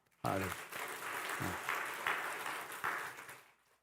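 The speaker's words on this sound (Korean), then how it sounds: "그렇게 믿는 사람 박수 한번 쳐보세요." A church congregation at a Sunday service bursts into applause, a dense sustained wash of many hands clapping together that swells and then tapers off, with a low voice briefly audible at the start.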